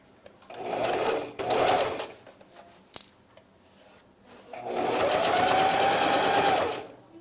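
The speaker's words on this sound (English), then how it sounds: "we're going to top sew it on the bottom side of the mask" A sewing machine top-stitches the bottom side of a five-layer COVID-19 face mask, running in two short bursts, pausing, then a longer steady stretch of rapid stitching, close and fairly loud with no talk.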